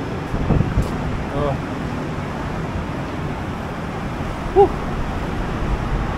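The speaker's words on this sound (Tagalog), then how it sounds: "Lakas ng hangin ah." Strong wind roars and buffets the microphone in a steady low rumble, with faint traffic-like noise and a brief tone near the end.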